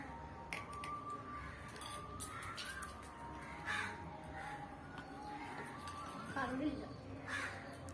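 Crows caw repeatedly outdoors, with harsh calls coming at irregular intervals, some near and some farther off, while people talk faintly in the background.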